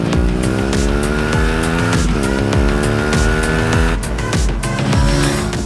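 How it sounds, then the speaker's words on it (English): Aprilia RS 457 parallel twin motorcycle engine revving hard and shifting through gears, its loud rising drone climbing in steps and dropping at each gear change, close and continuous with no talk. "Right off the bat, I want to tell you that this is a very nice sounding motorcycle."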